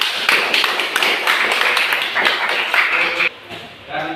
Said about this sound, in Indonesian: Nah, oke, tepuk tangan dulu dong.